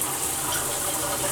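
Steady hiss of water running from a hotel shower head in a Fairfield Inn room, continuous and fairly loud with no voices.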